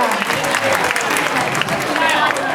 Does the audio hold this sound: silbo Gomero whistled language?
no